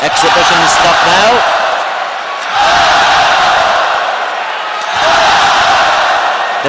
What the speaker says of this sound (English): The crowd loves it.